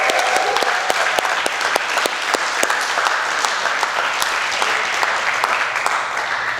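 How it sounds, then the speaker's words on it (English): Audience applauding at a Stanstead College baccalaureate graduation ceremony, a steady, dense wash of many hands clapping close by with a few sharper individual claps standing out, continuing evenly throughout. "I hope that you will join me in a round of applause"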